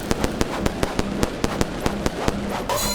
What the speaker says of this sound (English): let's get those firecrackers and see if I can do anything to this bat